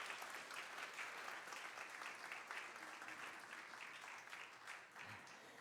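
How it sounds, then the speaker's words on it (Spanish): At a church service, the audience applauds the actors after a performance, with full, steady clapping from many hands that fades slightly toward the end, heard very faintly at low volume. "Un aplauso a los actores, ¿no?"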